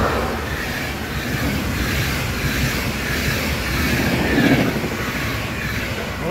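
Train rolling past on a Slovak railway, a steady broadband rumble with rail noise that swells slightly midway, loud and continuous with no voices.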